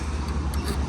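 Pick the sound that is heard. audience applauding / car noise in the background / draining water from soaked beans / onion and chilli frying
car noise in the background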